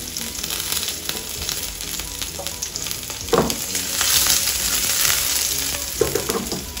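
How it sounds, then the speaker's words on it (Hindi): Chopped garlic and cumin seeds fry in a pan until browning for urad chana dal, a steady close sizzle with occasional stirring scrapes and crackles, no talking. "गार्लिक को थोड़ा ब्राउन होने तक हम भून लेते हैं।"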